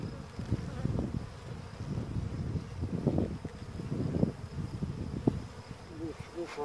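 Honeybees hum steadily around a beehive, a dense close drone that swells and dips in waves, with light wind noise mixed in.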